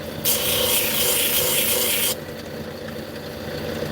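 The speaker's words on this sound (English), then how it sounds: "Grind it down just a little bit" Fire obsidian is ground lightly on a wheel, a loud hissing rasp of stone on abrasive lasting about two seconds before the wheel spins on with a softer whir.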